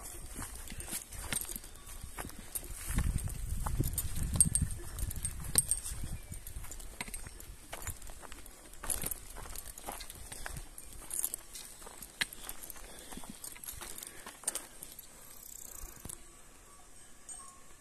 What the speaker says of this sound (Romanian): Douăzeci de vaci fac atâta trăboi.